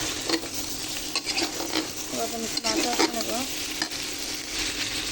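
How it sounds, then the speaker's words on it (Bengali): Spiced masala paste being stirred and fried in a pan while making a potato curry, with a steady close sizzle and the scrape of a spoon working through the mixture, with no voices. "এখন আমি এদিকে আমার মশলা প্রায় কষিয়ে চলে আসছে"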